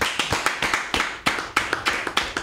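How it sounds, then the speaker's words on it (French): A few people clap in a radio studio after a card magic trick, sparse uneven claps with a loose rhythm, close and dry, no voices. "On s'applaudit en studio, les amis"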